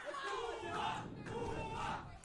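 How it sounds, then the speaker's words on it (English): Crowd at a live boxing match at the Troubadour in Nashville chanting in unison, a rhythmic, fairly distant wall of voices repeating a name in steady waves. "The crowd starting to chant for Sando."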